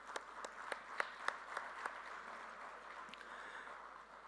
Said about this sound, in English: So a great round of applause for all the sponsors here.